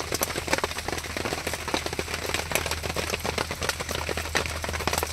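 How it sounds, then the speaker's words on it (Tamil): Heavy rain pours down steadily outdoors, a dense continuous patter with scattered louder drops, heard alone without talk. "மழை வேற பிஞ்சு சாவடிக்குது மக்களே."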